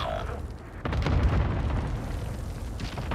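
An airstrike explosion in a shooter video game: a sudden heavy boom that swells into a loud, sustained rolling rumble.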